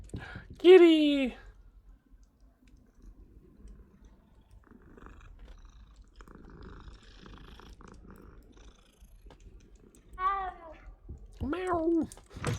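A cat in a video game meows a few times, a clear cry near the start and two more toward the end, with quiet low rumbling between them.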